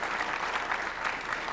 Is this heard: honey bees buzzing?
no